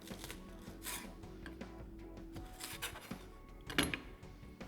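Kitchen knife chopping spring onion on a board, a few quiet irregular cuts and soft knocks at close range, with no talking.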